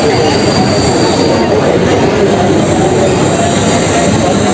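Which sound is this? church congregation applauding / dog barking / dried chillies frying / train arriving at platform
train arriving at platform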